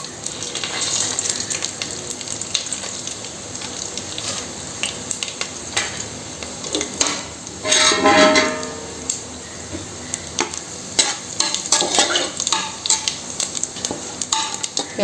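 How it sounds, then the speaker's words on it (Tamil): Whole spices – cinnamon, cloves, star anise, dried red chillies, fennel and cardamom – fry in hot oil for mutton sukka, giving a steady close sizzle broken by a few louder bursts and occasional stirring scrapes, with no talking. "இப்போ தாளிக்கிறதுக்கு பட்டை, கிராம்பு, அன்னாச்சி பூவு, வரமிளகா, சோம்பு, ஏலக்காய் இது எல்லாத்தையும் எண்ணெய் கண்டிச்சு போடுவோம்"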